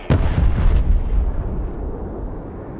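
A heavy airstrike in the war game Broken Arrow lands as a loud, close blast, with a sharp onset and a rumbling roar that slowly fades over a few seconds.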